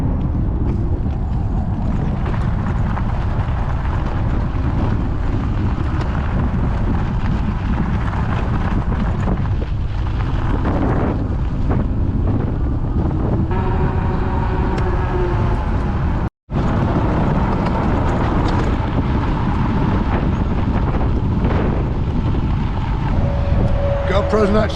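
Wind roars hard and steadily across a helmet camera as a cyclist pedals uphill on the Historic Union Pacific Rail Trail, with loud buffeting throughout, a brief dropout near the middle and a voice talking under it.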